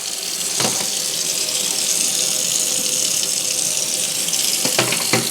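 Tap water runs steadily from a faucet over strawberries being rinsed in a sink, a continuous close splashing hiss with a few brief knocks near the start and end.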